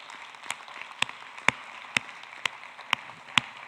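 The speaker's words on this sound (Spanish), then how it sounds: "Den un aplauso al Señor, por favor" A church congregation claps in slow, steady rhythm, with single sharp claps about twice a second over a quiet room hum and no talk.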